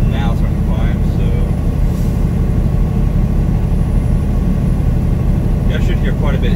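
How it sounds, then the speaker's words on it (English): A semi truck's engine labours steadily as the rig starts climbing a grade out of California into Eastern Oregon, a constant low rumble filling the cab while someone talks over it. "I should hear quite a bit of engine noise too"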